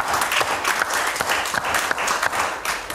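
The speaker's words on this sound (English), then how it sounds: "Give the Lord a hand clap." A church congregation claps its hands in brisk, steady applause, fairly close and loud, with scattered voices mixed in.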